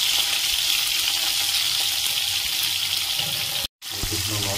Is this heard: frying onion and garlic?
yes